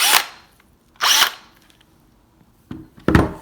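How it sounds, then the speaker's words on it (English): A DeWalt power drill whirs in short bursts drilling through granite: two quick runs, a pause, then two more, close and loud with quiet gaps between. "So what I did was grab my DeWalt drill."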